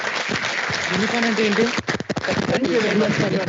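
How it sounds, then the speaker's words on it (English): Audience applause at an inaugural ceremony, a dense wash of clapping running throughout while a voice speaks over it. "I would like to request all our present here to stand up and clap for your talk"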